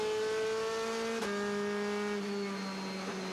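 DTM touring cars from 2001 race wheel to wheel at Hockenheim, their engines screaming in a sustained high whine. A sharp pitch drop marks a gear change, then the roar holds steady as the cars run wide open.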